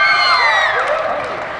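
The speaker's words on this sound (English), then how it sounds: "Approval from the big crowd that's gathered here" A big crowd at a live performance in Sacramento cheers and whoops in approval, loud and close, with a dense wash of voices fading slightly toward the end.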